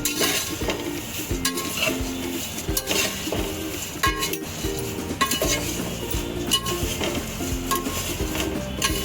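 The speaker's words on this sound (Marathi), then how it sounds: "हलक्या हाताने भाजायचे आहेत आपल्याला जेणेकरून पोह्यांचा चुरा नाही झाला पाहिजे" Dry poha flakes are roasted gently in a pan for chivda, a utensil scraping and stirring in a steady rhythm with light clinks against the pan and a faint crackle throughout, close and continuous.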